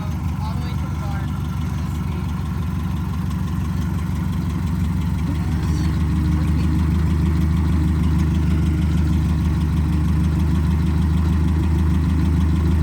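Tractor engine running steadily as it is driven, a constant low, throbbing drone with no clear revving, while people talk over it.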